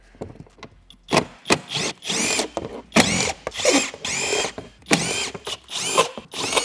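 A power drill backs out 10 mm screws from the rear bumper of a Toyota 4Runner in a series of loud, close, high-pitched whirring bursts separated by short pauses.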